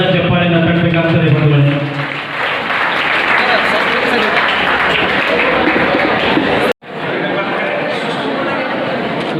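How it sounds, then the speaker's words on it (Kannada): Students loudly applaud classmates on stage at a PU college celebration held for lecturers, with dense, sustained clapping that has a voice over it at the start, a brief cut, and then more clapping. "ವೇದಿಕೆ ಮೇಲೆ ಇರತಕ್ಕಂಥ ನಿಮ್ಮ ಸ್ನೇಹಿತರಿಗೊಮ್ಮೆ ಜೋರಾದ ಚಪ್ಪಾಳೆಯನ್ನು ತಟ್ಟಬೇಕಾಗ್ತದೆ"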